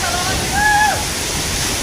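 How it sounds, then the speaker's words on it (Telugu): Masaloddi waterfall near Doolapuram in Wazeedu, Mulugu, running with heavy flow: a loud, constant rushing roar, broken briefly by a thin high whistle-like tone. "మాసెన్ లొద్ది వాటర్ ఫాల్స్"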